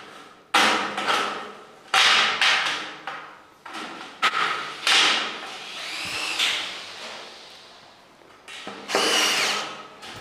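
Power drill driving screws to fix a metal channel piece for a gypsum ceiling, several sharp loud bursts of whirring with short pauses between them, close by.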